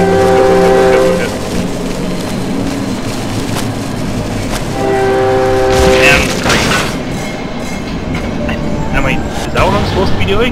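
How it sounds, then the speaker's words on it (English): A train roars past loud and close in the horror video game Cry of Fear, its horn blaring in long tones over heavy rumbling and clatter, with someone talking over parts of it. "I'm gonna get hit by the train like a gazillion times, aren't I?"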